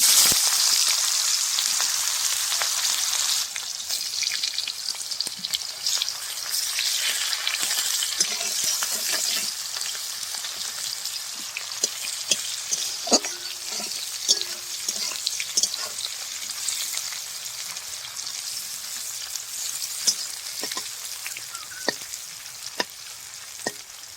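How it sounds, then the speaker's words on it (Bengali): Chopped onion frying in a pan for a village-style taro and fish dish, with a loud, bright, continuous sizzle close by and occasional stirring clicks scattered through it. "এবার দিয়ে দেবো আমি পেঁয়াজ কুচি"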